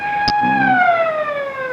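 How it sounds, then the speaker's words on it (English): An emergency vehicle siren comes up from behind a car on the road, loud and clear, its wailing tones gliding steadily downward, with one brief sharp click near the start. "Hey, I hear a siren."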